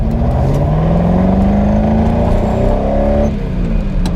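A Ferrari 308 engine revs steadily under strain, down on power, its pitch slowly rising with a rough, uneven drone, then dropping back near the end.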